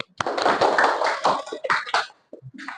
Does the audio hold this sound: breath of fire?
no